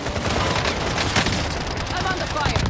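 Rapid, dense gunfire fills a Call of Duty: Modern Warfare (2019) firefight, loud bursts and shots overlapping continuously while a player talks over the noise.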